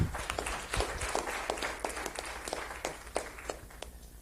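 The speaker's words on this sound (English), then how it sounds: "I'm going to request you a big round of applause for the Prof." A room of stakeholders at a governance and democracy meeting gives a round of applause, scattered claps patter at a moderate distance with a low room hum beneath, gradually thinning toward the end.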